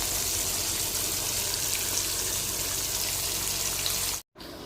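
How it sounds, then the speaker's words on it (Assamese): Fish frying in a pan at home, giving a steady, dense hiss of sizzling oil that runs unbroken at close range, then cuts out briefly near the end. "এতিয়া এইফালে মাছ ফ্ৰাই কৰি আছে মায়ে"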